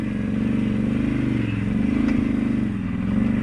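A Can-Am off-road vehicle's engine holds a steady, close drone at easy riding speed, with a slight rise and fall in pitch and a faint knock partway through.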